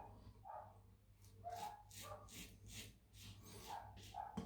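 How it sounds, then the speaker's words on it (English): Several dog barks come from a distance next door, spread out and somewhat muffled, over a steady low hum. "Next door's dogs barking away."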